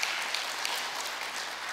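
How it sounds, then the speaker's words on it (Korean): A church congregation claps in welcome for returning worshippers and children, a brief, dense, steady burst of many hands applauding, even and fairly close. "좌우를 보시면서 박수로 우리 한번 환영하는 시간을 갖도록 하겠습니다"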